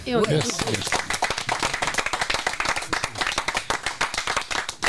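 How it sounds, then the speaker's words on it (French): A live audience claps for a guest on a French talk show, sharp individual claps standing out in a dense, rhythmic round that starts loud and carries on with a voice briefly heard at the start. "et on l'applaudit"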